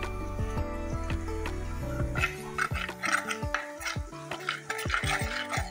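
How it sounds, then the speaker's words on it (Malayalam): Ginger and garlic fry in a pan for a Kerala fish head curry while a spoon stirs and scrapes against the metal, clinking repeatedly over a low sizzle, with tonal music running underneath. "നമ്മളുടെ ഇഞ്ചിയും വെള്ളുള്ളിയും ഒന്ന് മൂത്ത് വരട്ടെ."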